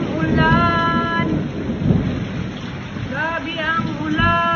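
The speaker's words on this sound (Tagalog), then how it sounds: "Grabe ang ulan, napakalakas." Heavy rain pours in a steady, loud wash, with low thunder rumbling beneath it and no voices.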